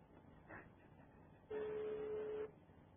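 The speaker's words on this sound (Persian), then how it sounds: "تلفن جواب نمیده" A telephone rings unanswered, a steady tone sounding for about a second after a brief fainter burst, over a quiet, hissy background line.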